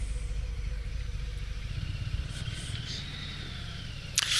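2022 Harley Davidson Fat Boy Special rumbling at low speed while riding, a moderate, steady low engine throb with wind and road noise and a brief sharp noise near the end.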